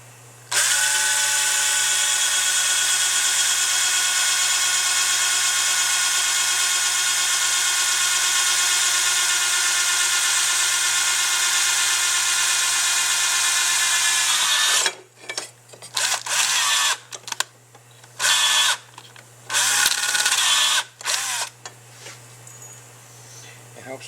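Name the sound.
drilling a 1/8 inch hole through a fuel pump section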